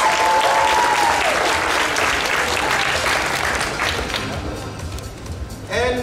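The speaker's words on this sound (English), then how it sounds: "One more big round of applause for" Dense audience applause at an anime convention costume contest, loud and sustained from a packed room, fading slightly before a voice comes in near the end.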